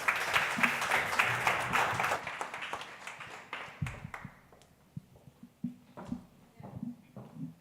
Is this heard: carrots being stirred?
no